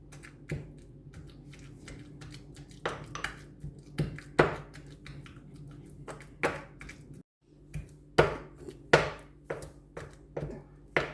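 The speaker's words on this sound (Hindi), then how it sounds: "तो मैंने एक कूंडी ले ली है, तो इसमें मैं डालूँगी दाल, और इसको हम पीस लेते हैं हाथ से।" Lentils ground by hand in a stone mortar make irregular sharp knocks and thuds of stone on stone, close and fairly loud, with brief pauses and no speech.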